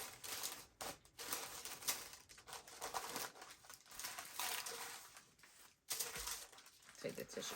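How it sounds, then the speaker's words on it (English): Tissue paper rustles and crinkles in quiet bursts while Gucci black leather thong sandals are unboxed, soft close crackles with brief pauses and someone talking at points. "Take the tissue paper out."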